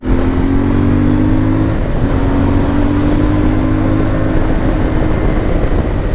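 A CF Moto 450MT adventure motorcycle accelerates hard and close, its engine note climbing, breaking briefly at a gear change, then revving upward again, loud and continuous.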